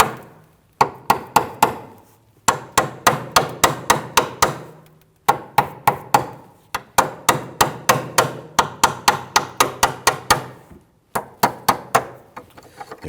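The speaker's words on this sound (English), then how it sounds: "I'm going to go ahead and gently tap this with my hammer." A hammer taps a rusted rear brake hose fitting on a 2013-2019 Ford Interceptor Utility, loud sharp metallic strikes in quick bursts of several blows separated by short pauses, with no speech.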